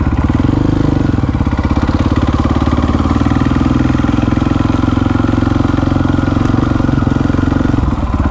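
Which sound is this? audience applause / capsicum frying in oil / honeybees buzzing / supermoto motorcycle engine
supermoto motorcycle engine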